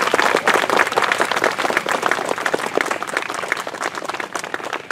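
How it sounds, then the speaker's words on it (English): Audience applause at an outdoor dedication ceremony for the Cary African American Cemetery walking tour, a dense, steady burst of many hands clapping that holds close and loud for the full stretch with no talk over it. "If we could just give her a round of applause."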